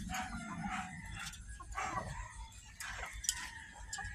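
Asil chickens, hens and a rooster, cluck and the rooster calls amid outdoor farmyard background noise, with a few brief sharper squawks standing out.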